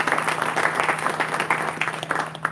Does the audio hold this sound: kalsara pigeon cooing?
no